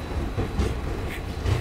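Sleeper-class train moving along the Bengaluru–Hubballi main line after leaving Yesvantpur Junction, a continuous loud rumble with rhythmic clatter of wheels on track heard from inside the coach.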